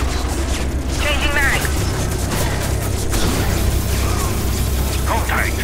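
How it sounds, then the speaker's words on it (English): A gun reloads in the co-op shooter Scourge Outbreak on the Bastion level, with quick mechanical clicks and clacks over heavy game noise, distant gunfire and a muffled voice. "Cover me, I'm reloading."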